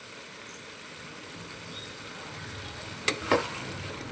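Chicken rezala in a pan being stirred after cashew and poppy seed paste goes in, a low steady sizzle with a couple of short scraping stirs near the end.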